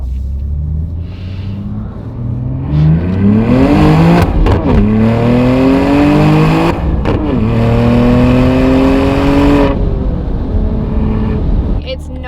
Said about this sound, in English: this exhaust sounds so good